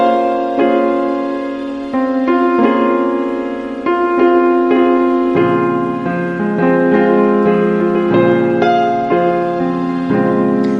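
A piano sounds a series of sustained, ringing chords and single notes at a moderate tempo in a minor ninth voicing, clear and close, with no talking.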